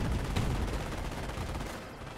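Dense gunfire crackles through a Company of Heroes 1 match, a steady wash of overlapping shots and bursts that fades slightly toward the end.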